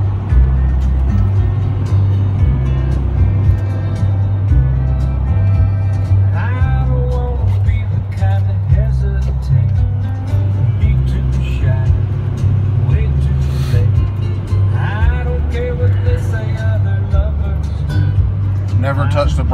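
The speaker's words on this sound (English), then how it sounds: "now we'll let the torque shift do all the braking for us." A 2006 Ford F-350 rolls downhill on a mountain road under engine braking, its drone steady and loud for the whole stretch and rising and dropping in stepped pulses as the transmission holds the revs, with music playing and people talking over it.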